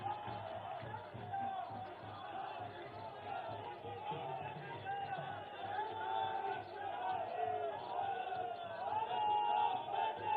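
Large crowd at a BJP political rally in New Delhi celebrating a Bihar election win, a steady roar of cheering and chanting voices sustained throughout, loud and continuous with bursts of excited shouting.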